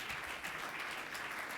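Audience applause welcoming a panel of chief HR officers and their moderator to the stage at a forum, a dense, even wash of clapping held at a moderate, slightly distant level throughout.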